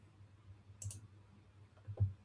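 Computer mouse clicks, two brief distinct clicks about a second apart against a quiet room hum, close and faint.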